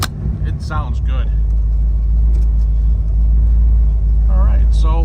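A 1971 Chevrolet Chevelle's engine idles with a steady, loud low rumble throughout, while a person talks over it in short bursts.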